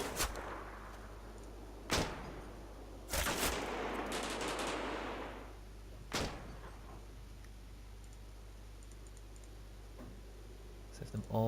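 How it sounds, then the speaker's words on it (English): Machine gun fire in the WWII strategy game Combat Mission: Battle for Normandy: several sharp, loud bursts with one longer rattling volley, separated by a steady low engine-like hum and short quiet gaps. "That's that MG, I think."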